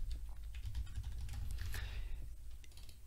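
Rapid clicking keystrokes on a computer keyboard run steadily throughout, close and moderately loud, with irregular bursts of taps over a low background hum.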